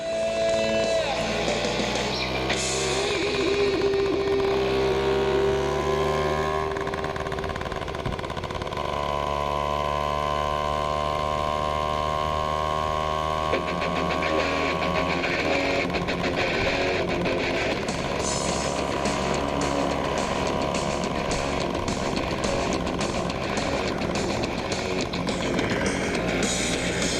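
A Honda Express 60cc moped engine buzzes continuously while ridden through a cemetery, its pitch rising and falling with the throttle, loud and close throughout.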